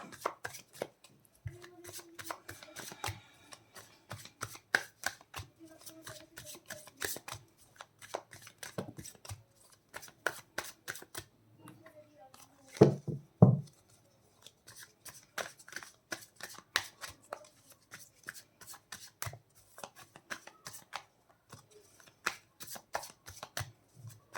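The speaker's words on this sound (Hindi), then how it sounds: "मैंने कर लिए हैं कार्ड शफल।" Tarot cards shuffled by hand, quick riffles and soft slaps coming in uneven bursts over a long stretch, close and fairly quiet, with a louder cluster near the middle and no talking.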